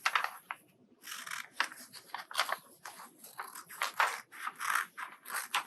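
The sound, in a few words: scissors cutting out paper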